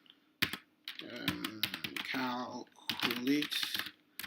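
Computer keyboard keys click in quick irregular bursts as someone types code for a DevLess data function, close and crisp, with someone talking over the typing.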